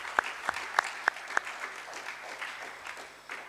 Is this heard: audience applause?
yes